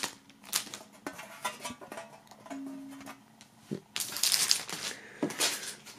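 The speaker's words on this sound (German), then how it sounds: "Dann werden wir mal die einzelnen Inhalte aus der Folie holen." Plastic foil crinkles and rustles as items from a Pyogenesis box set are pulled free, irregular close crackling bursts with a louder crumpling stretch near the end, no talking.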